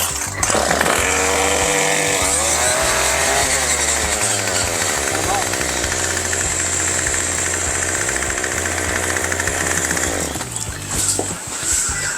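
A 2-cycle string trimmer engine, freshly fitted with a new fuel line, cranks and then runs with a loud, raspy, buzzing drone at close range, holding for about ten seconds before easing off.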